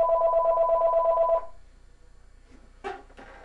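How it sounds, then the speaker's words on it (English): A telephone rings with a steady electronic warble for about a second and a half, then cuts off, followed by a brief rustle or clunk of handling, near and clear. "My phone's ringing."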